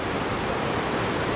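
Niagara whitewater rapids roar as a dense, steady wash of rushing water, loud and close, with no break or voices.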